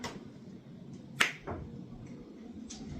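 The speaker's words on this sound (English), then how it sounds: "if I snap my fingers" A single sharp finger snap, close and crisp, rising briefly out of a low steady background rumble in a garage with a VW Passat B3 PD150.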